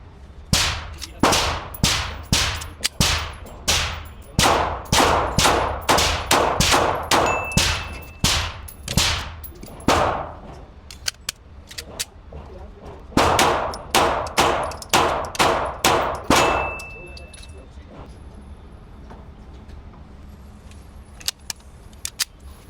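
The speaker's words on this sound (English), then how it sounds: "I ran that same ammo through a couple other pistols with compensators." Pistols fitted with compensators fired at a range, sharp loud shots in quick strings, many rounds in two bursts of rapid fire separated by a short pause, then quiet.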